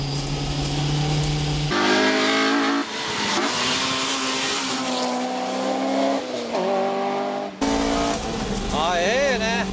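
A Nissan 350Z driven hard around a track, engine rising and falling through gear changes with tires squealing and skidding through corners, loud and close, while someone talks over it in a commentary-like voice.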